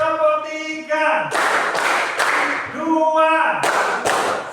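Students in a classroom clap their hands in counted bursts during a clapping game, with short groups of loud, sharp claps separated by pauses while a teacher's voice speaks in between.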